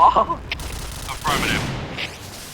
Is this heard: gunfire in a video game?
yes